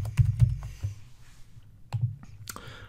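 Keys tapped on a computer keyboard while a name is typed, a handful of light, uneven keystrokes heard close and fairly quiet, with a low background hum.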